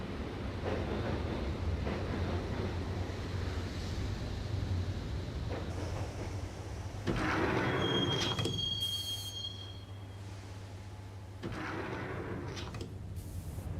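Subway train ride in the video game Max Payne, heading for Roscoe Street Station: a steady low rumble of the moving carriage with rushing track noise, swelling louder mid-ride with a thin high wheel squeal, then easing.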